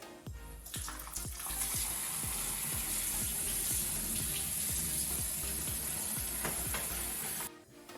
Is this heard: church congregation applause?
no